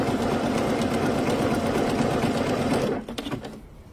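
A sewing machine stitching underwear fabric runs in a fast, steady close whir for about three seconds, then slows and stops with a few final clicks and thumps.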